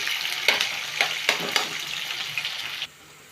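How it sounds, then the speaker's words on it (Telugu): Onions crackle and sizzle in hot oil with a few sharp stirring scrapes, close by, before the frying noise suddenly drops away near the end. "తాలింపు గింజలు కూడా ఫ్రై అయిపోయిన తర్వాత ఉల్లిపాయలు అయితే వేసేసాను"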